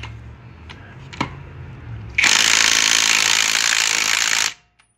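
Cordless impact wrench loosening a bolt torqued to 85 pounds, a few soft clicks and taps before a loud, steady hammering burst of about two seconds that cuts off abruptly, close up.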